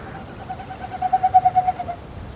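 A single bird gives a pulsed, hooting call that swells in loudness and then fades, about ten evenly spaced notes heard clearly on their own over faint background hush.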